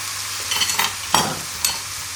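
Ratatouille vegetables sizzle softly in a pan under a steady frying hiss, while a utensil stirs and scrapes through them in several brief bursts, close and without talk.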